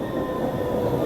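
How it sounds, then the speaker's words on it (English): An arriving train gives a loud, steady rumble with a thin metallic whine of wheels squealing on the rails, heard up close and continuously throughout the short moment. "Here comes the train."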